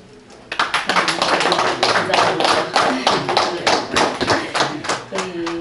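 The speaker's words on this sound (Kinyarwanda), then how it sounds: "mu bambera amashyi" Applause at a 50th jubilee celebration for a woman named Uwamariya Basilice, a crowd clapping in dense, steady rhythmic bursts that start after a brief pause and continue loudly to the end.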